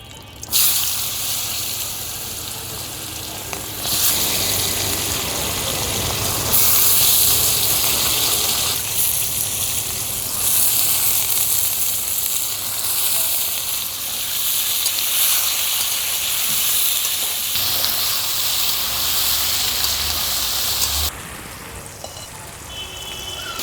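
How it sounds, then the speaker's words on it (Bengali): Potato pieces seasoned with a little salt and turmeric frying in hot oil, giving a steady, close sizzling hiss that swells and eases in loudness over about twenty seconds, with no talking. "তেলের মধ্যে সামান্য লবণ সামান্য হলুদের গুঁড়া দিয়ে আমি আলুগুলো ভেজে নিচ্ছি"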